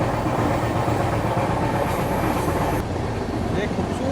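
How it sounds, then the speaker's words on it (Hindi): The Rapti Sagar Express entering the Makali Durga ghat section, heard from inside as a loud, steady roar of rolling wheels and carriage rumble with faint rhythmic clatter, continuous throughout. "तो यहाँ पे आप देख लो ट्रेन अपनी खूबसूरती से एंटर कर रही है।"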